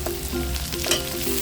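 Tomato sautéing in a hot pan, a close, continuous sizzle with brief stirring scrapes, alone and without talk.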